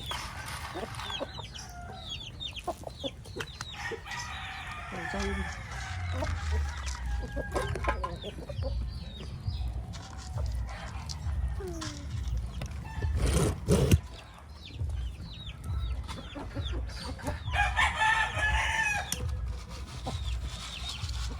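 A flock of hens clucking and squawking in a farmyard, with a few louder calls rising over a constant busy chatter of fowl close by.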